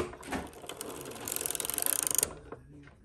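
Hand-cranked sock knitting machine working toe-up stitches, a fast run of rhythmic ratcheting clicks building in intensity, then stopping with a few mechanical clunks, close and clear without talk.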